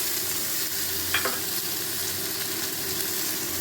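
Tomato and eggplant fry in oil with a steady, even sizzle that holds at the same level throughout, with one brief clink near the middle.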